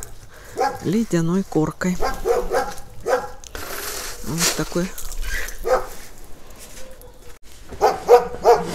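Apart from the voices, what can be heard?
neighbours' dogs barking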